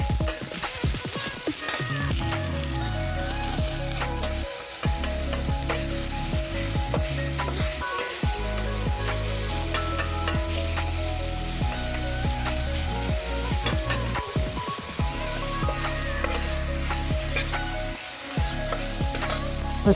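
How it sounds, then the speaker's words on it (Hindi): Tomatoes with ginger-garlic paste, salt and turmeric fry in a pan while being stirred, giving a steady close sizzle with repeated scraping strokes throughout. "उसको अच्छे से थोड़ा सा फ्राई करके"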